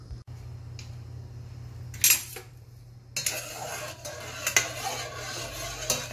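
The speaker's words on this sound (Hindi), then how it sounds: "अच्छी तरह से मिक्स कर लेते हैं।" A spoon clinks and scrapes against a pot while hibiscus flower tea with a pinch of salt is stirred, a few bright metallic taps over a steady low hum, no voices.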